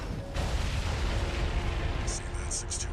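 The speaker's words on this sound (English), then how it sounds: "The Strider's blowing itself up." A Strider machine in Armored Core VI blows itself up, a sustained loud rumbling explosion roar that fills the whole stretch, with bright crackling bursts breaking through near the end.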